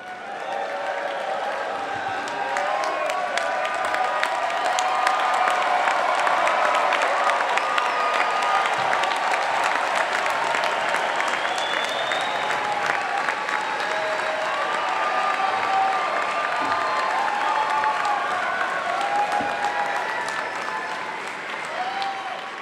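Sustained applause with cheering and whoops from a large crowd at a Texas MBA commencement ceremony, loud and steady for over twenty seconds before tapering off at the end.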